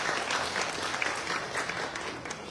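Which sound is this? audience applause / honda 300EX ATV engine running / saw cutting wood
audience applause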